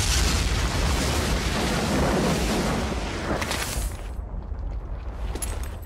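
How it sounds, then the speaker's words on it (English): Rapid-fire gunshots from Devil May Cry 2, a dense, echoing roar of overlapping shots blurring into one loud continuous burst, easing off near the end, with no voices. "It's just the same bullet shoot sound,"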